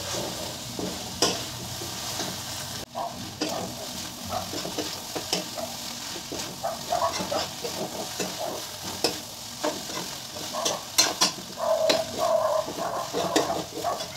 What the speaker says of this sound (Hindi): इसके बाद हम डालेंगे हमारे नूडल्स को। मिक्स कर लेते हैं अच्छी तरह से।